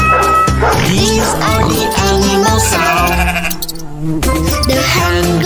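A voice imitates a sheep bleating in a children's animal sounds song, with a quick run of short bleats riding on a loud, rhythmic musical accompaniment.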